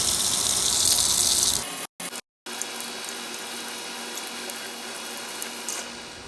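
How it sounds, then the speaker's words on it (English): A sweet potato scrubbed with a brush under a running kitchen tap: steady rushing water into a sink, briefly cut off twice, then continuing with faint rubbing beneath the flow. "we're going to grab a brush, run some water, and scrub our potato"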